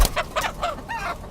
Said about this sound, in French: Mais l'aviculteur n'a pas abandonné les poules en batterie.